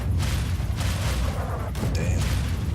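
Explosions in the video game Fallout 3 sound as a steady, dense rumble of booms and bursts, loud and continuous across the whole stretch with no talk over them.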